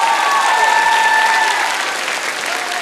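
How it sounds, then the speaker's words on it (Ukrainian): A studio audience at a televised comedy show bursts into loud, full applause, a thick sustained roar of clapping that gradually thins toward the end, with a faint tone sounding underneath. "Аплодисменты вам."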